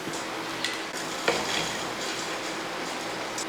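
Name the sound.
fried soya chunks added to hot sauce in a pan, sizzling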